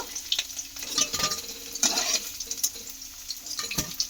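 Potato pieces fry in hot oil in a pan and are stirred, giving a soft continuous sizzle punctuated by scraping and clinking taps of the utensil, fairly close and with no talk.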